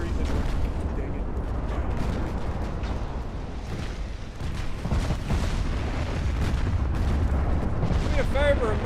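A torpedo striking a ship in a naval warfare game, heavy rumbling booms and explosive bursts layered over continuous battle noise, loud and dense, with a brief voice near the end.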